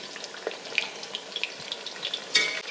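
Strips of food fry in a pan with soft, scattered crackles and sizzling pops, quiet and close, with a brighter spatter burst near the end.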